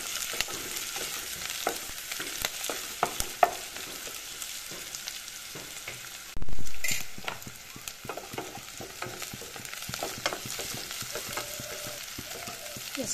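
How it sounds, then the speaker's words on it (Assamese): Garlic, onion and chillies frying in hot oil in a pan for a fish curry with star fruit: a steady close sizzle with repeated stirring scrapes and one brief louder burst midway. "সেইখিনি দি দিলো নহৰু পিয়াজ আৰু জলকীয়াখিনি এইখিনি অলপ গৰম কৰি লওঁ"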